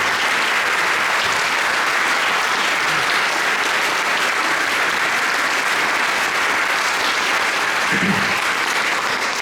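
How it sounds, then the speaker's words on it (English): Audience applause inside an ancient church at a young musicians' competition in Wigan, for two pianists: sustained, even clapping from a seated crowd, fairly loud and unbroken, with a faint voice briefly audible near the end. "So let's have a round of applause for Carol and Peter."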